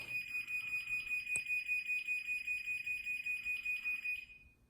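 A Chamberlain MyQ smart garage door opener's warning alarm beeps rapidly and steadily in a high pulsing tone, with a single click midway, then the beeping stops abruptly.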